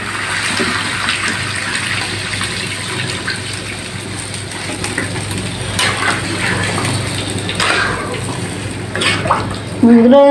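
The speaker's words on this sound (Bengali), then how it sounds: "আমি এখন জলটা দিয়ে দেবো অল্প করেই জল দেবো" Water pours into a pan of simmering chicken curry, a steady gushing splash under a soft voice, ending in a brief clatter.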